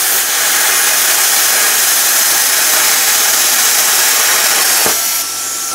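Touchless plasma-style cutter slicing metal on a grounded welding table, a loud steady broadband hiss and roar lasting several seconds, with a brief crack near the end before the tone shifts.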